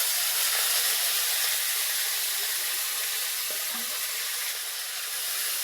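A ground paste of ginger, cumin and chili fries in oil with a soft, steady sizzling hiss, close and fairly quiet, continuing evenly with no speech.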